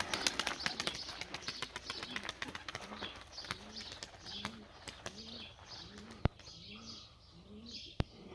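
A single white homing pigeon on its second day of flying beats its wings in repeated bursts, with soft cooing and a few chirps nearby and two sharp knocks near the end; no talking.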